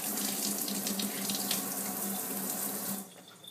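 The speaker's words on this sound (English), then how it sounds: "So rinse off the bottom portion." Tap water runs steadily into a sink while the bottom portion of a vape tank is rinsed, a continuous close splashing hiss that cuts off near the end.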